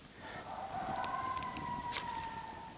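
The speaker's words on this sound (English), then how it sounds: "That's a coyote." A coyote's faint, high wavering howl carries from far off, rising and holding over a quiet outdoor background.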